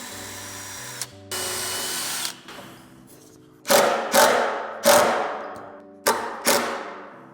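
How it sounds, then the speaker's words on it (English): A power drill whirs in short bursts, pausing between each, then sharp clattering impacts ring out several times as holes are bored up into a wooden table in a garage. "I'm gonna go drill a couple of holes up into this table"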